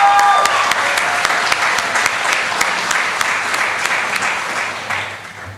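Audience at the Arkansas 4-H State O-Rama awards ceremony applauds scholarship winners, a steady, dense crowd clapping with a few louder nearby claps standing out, tapering slightly toward the end.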